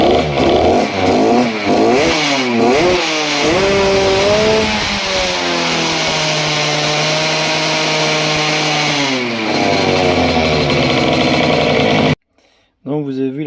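A small engine fitted with a PWK carburettor revs hard and close, climbing and falling through several throttle blips before settling into a steady high drone that cuts off abruptly near the end.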